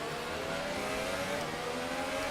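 Formula 1 race car engines in the F1 2018 racing game at the Mexican Grand Prix, a continuous high-pitched engine whine with layered tones, steady and fairly close throughout.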